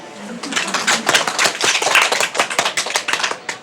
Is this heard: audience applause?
yes